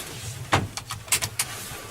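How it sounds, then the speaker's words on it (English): Seatbelt buckled inside a truck cab before an air brake test: a quick series of clicks and rattles of the strap and metal latch, close and fairly clear over a low cab hum. "First, I'm going to put on my seatbelt."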